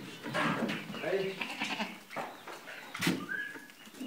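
Goats on a French farm bleat several times, close by, under and between people talking in French.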